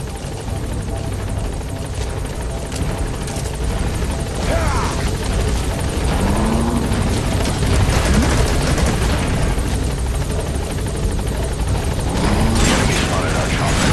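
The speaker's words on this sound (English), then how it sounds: "Support helicopter has arrived." Support helicopter arriving in Metal Gear Solid V: The Phantom Pain, its rotor drone loud and steady throughout with a few faint thuds layered over the continuous whirring.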